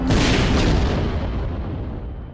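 A loud, deep explosion boom from a visual-effects shot, a broad roaring blast that fills the whole clip and slowly decays without fully dying away.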